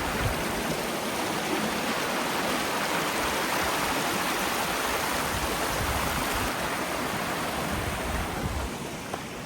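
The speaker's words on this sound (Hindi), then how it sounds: "ये कोई ऊपर से वाटरफॉल का जो झरना है ना, वहाँ से फ्लोइंग वाला झरना है।" A mountain stream fed by a waterfall rushes in Kazakhstan, a constant loud broadband roar of flowing water with no breaks, heard up close and alone.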